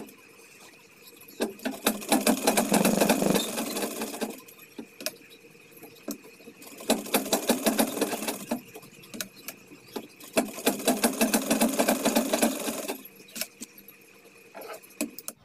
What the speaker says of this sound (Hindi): अब हम अस्तर और कपड़े को बराबर से चारों तरफ से सिलाई लगाकर स्टिच कर लेंगे।